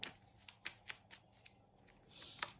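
A tarot deck being shuffled and cards pulled, close and quiet: soft riffling flicks and snaps in quick succession, then a longer brushing shuffle near the end, with no voices.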